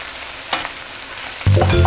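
Spinach wilting in a hot pan, sizzling and frying with a couple of stirring scrapes before a louder burst of crackling sizzle near the end; no talking.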